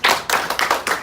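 A classroom audience applauding, a short burst of hand claps in quick uneven bursts, close and fairly loud.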